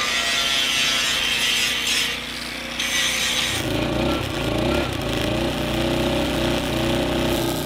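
Sawing through a 2x2 piece for a welded steel solar panel mount on a shipping-container off-grid cabin, a loud steady rasping cut that grows heavier and rougher halfway through.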